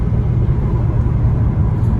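A 750 hp 2006 Ford GT sports car engine idles steadily up close, a low, even rumble with no revving, continuous throughout.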